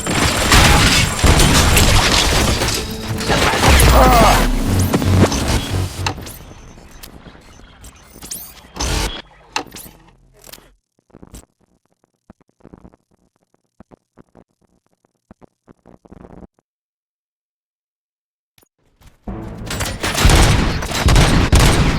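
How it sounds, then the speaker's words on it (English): Dense gunfire and booming blasts from the video game Robocop Rogue City, a loud sustained barrage that thins into scattered shots and near silence before heavy firing erupts again at the end. "Gunshots? What's going on?"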